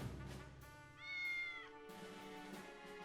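A cat in the video game Triangle Strategy gives a drawn-out, rising meow, clear and fairly close over a soft tonal music bed, with no talking.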